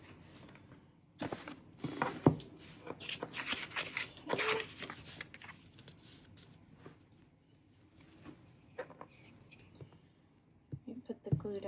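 Paper ripped by hand for junk journal cards, a few close, scratchy tearing strokes in the first half, then quieter handling with soft whispered speech underneath.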